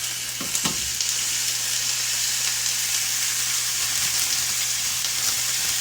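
Smash burger patties sizzle loudly and steadily in a hot pan with olive oil, a constant crackling hiss with a couple of soft clinks near the start.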